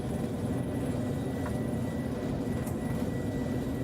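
An Airbus airplane taxiing on the ground gives a steady, continuous engine drone with a low hum that holds evenly throughout, without voices.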